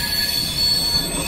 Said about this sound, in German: So, mein Zug nach Hannover kommt an.